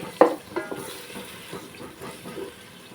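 Green chillies frying in a pan for Telugu-style fish curry, a soft sizzle with light stirring and a few scraping clinks, close and moderate in level.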